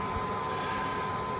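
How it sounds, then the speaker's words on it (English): Steady, close whooshing hum of a large computer's spinning 120 mm cooling fans, a constant even drone. "I have my giant lab computer over here with just like 120 millimeter fans spinning in our face"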